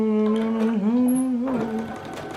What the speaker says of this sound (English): Right sides facing, and stitch and stitch it down